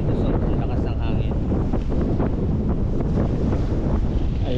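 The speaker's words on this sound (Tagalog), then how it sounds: "Ang lakas ng hangin." Strong coastal wind buffets the microphone in a steady, loud roar along a rocky shoreline trail between Lobo and San Juan, with surf faintly beneath and brief talk in the gusts.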